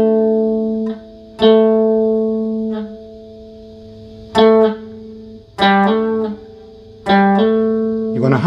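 Clean electric guitar notes are picked one after another and left to sustain, each ringing out with harmonic richness before the next is struck.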